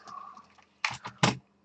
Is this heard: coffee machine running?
no